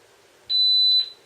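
A LaserLyte Trigger Tyme pistol trainer gives a single short, clear electronic start beep, about half a second long, against near silence.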